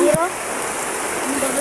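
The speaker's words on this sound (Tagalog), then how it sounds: "Lumakas pa yung ulan mga idol." Heavy rain falling steadily outdoors, a dense, even wash of hiss that stays loud throughout with a brief voice near the start.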